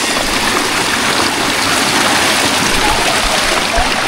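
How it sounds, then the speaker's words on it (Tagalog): River water rushes steadily over rocks mid-channel, a dense, continuous broadband roar of flowing current close by, with no voices. "paganda ng paganda ang agos ng tubig dito sa bandang kalagitnaan"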